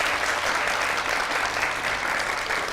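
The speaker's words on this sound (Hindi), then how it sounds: "उन लोगों के लिए एक बार तो तालियां बजाइए।" A studio audience claps steadily and densely for the whole stretch, loud and close, with no pause or swell, like a dense wash of hands.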